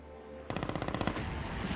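Rapid burst of gunfire sinking a battleship in a harbor in Civilization VII, a dense string of sharp repeated shots starting abruptly and running about a second before fading into a steady rumble.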